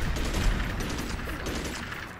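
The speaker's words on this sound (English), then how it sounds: "Yes, run right into the gunfire." Dense gunfire in the Magicka video game, a steady rattling barrage of shots that fills the scene continuously with no pauses.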